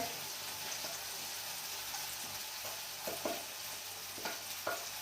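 Onion and tomato frying in a pan as a thick chutney is stirred in, giving a steady soft sizzle with occasional scraping stirs, fairly quiet and close.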